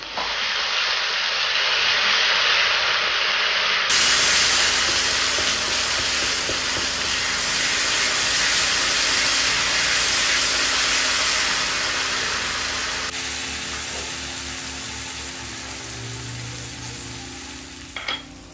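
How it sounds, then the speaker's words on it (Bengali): Ginger, garlic and chili paste hits hot oil with caramelized sugar in a pan for a mutton and potato curry, giving a loud, steady frying sizzle that hisses on continuously with faint stirring clatter. "1 টেবিল চামচ আদা রসুন লঙ্কা পেস্টটা দিয়ে দিচ্ছি।"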